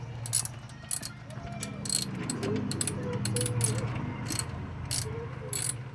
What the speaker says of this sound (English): we're going to be loosening these bolts.